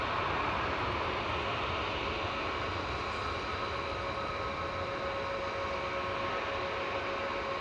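An airliner, flight 4027 to Alicante, departs Manchester Airport in the distance, a constant even engine rumble with a faint steady whine running through it, no speech.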